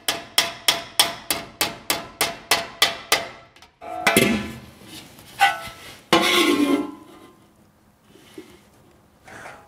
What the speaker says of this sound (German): Beim Hämmern kommt es nicht allein auf die Kraft an, sondern auf die richtige Technik und den Rhythmus.